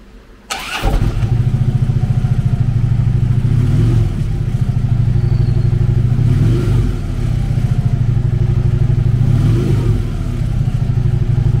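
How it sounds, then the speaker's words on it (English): A 2013 Harley-Davidson Electra Glide Ultra Limited Anniversary with a 103 cubic inch V-twin fires up close by, then settles into a loud, steady, lumpy idle with slow recurring swells. "Powered by a 103 cubic inch V-twin motor, the Electraglide puts 105 foot-pounds of low-end torque through a 6-speed transmission."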